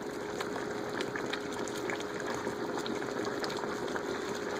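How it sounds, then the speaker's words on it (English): Chicken and dumplings simmer in a pot on the stove, giving a steady, soft bubbling that runs evenly throughout at low volume, with nothing else standing out. "just let it all cook down and simmer"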